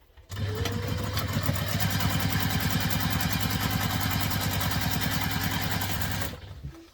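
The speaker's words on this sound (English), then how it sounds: "we're going to take it to the machine and we're going to stitch down there" A sewing machine stitches a seam on a Peregrina Crosspack bag in one continuous run of rapid, even needle strokes lasting about six seconds, close and steady, starting and stopping abruptly.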